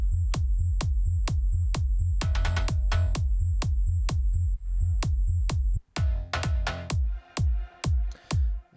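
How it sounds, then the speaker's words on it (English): Stab bass synth sounds, one a strange-sounding patch from Spire, hit in a fast, regular rhythm of punchy low stabs with bright tops. A denser passage in the middle leads to choppier, gated hits near the end, with no voices. "a really weird sounding bass sound"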